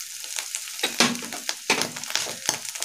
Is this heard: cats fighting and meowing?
no